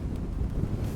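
A cold mountain wind rushes at a reservoir with blowing snow, making a low, steady buffeting rumble against the microphone.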